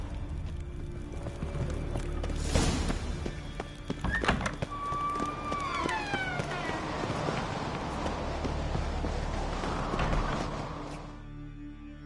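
A horse in a video game gives a rising whinny amid hoofbeats and thudding movement, with ambient game sound throughout and a fairly close, moderate level.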